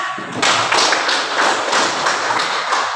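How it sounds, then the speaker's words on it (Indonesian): A classroom group claps in applause, a close burst of rhythmic hand claps that carries steadily for about two and a half seconds after a brief quiet start. "Tepuk tangan."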